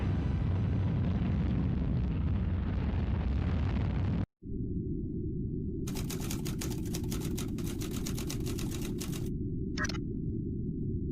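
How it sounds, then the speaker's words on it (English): A rocket launch liftoff, heard as a loud, steady broadband roar that cuts out briefly and then resumes as a sustained low rumble, with crackling bursts layered over it partway through. "And liftoff."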